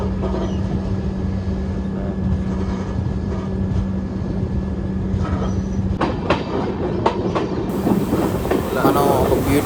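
Summer special express train from Rani Kamlapati to Mysuru crossing a bridge, a loud steady rumble of rolling coaches that turns harsher and more clattery midway, with rhythmic wheel knocks and metallic rattles.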